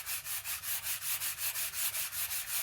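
Sandpaper rubs back and forth along yew wood for a Maruki longbow in steady, even strokes, close and continuous, at about five to six strokes per second with no talking.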